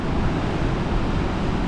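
Strong, steady, cold wind on Vancouver Island, Canada, roars and buffets the microphone, mixed with a broad rushing noise like surf nearby.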